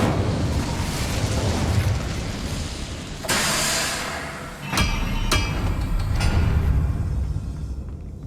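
Incendio fire spell cast in the Hogwarts Legacy game, a sudden whooshing fiery burst over dense rumbling background noise, followed by a couple of sharp cracking pops.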